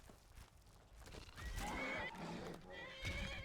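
A horse in the video game Skyrim neighs loudly up close, a long whinny over steady hoof clip-clop, with no talking.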